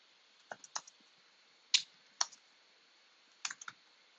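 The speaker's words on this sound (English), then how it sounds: "If I type partial and hit tab, it'll autocomplete for me." Sparse keystrokes on a computer keyboard while a command is entered in a terminal: a few isolated clicks in small clusters with gaps between, close but quiet, no talking.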